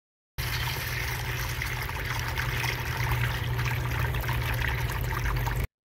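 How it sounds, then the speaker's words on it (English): Water streams from a nozzle into a plastic tub in a fluid dynamics experiment, a loud steady pouring and splashing that starts abruptly, runs continuously for several seconds, then cuts off. "the water nozzle is set up here to mimic the water being pumped in from the pit"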